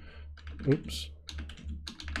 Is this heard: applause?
no